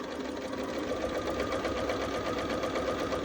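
A sewing machine runs steadily, stitching pieced quilt fabric along a quarter-inch seam allowance in a continuous close-up whir with a fast mechanical rhythm and no talking.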